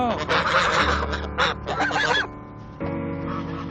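Young geese honk and clamour for more feed in a close, noisy cluster of overlapping calls, then the racket drops to a quieter, steady tonal hum.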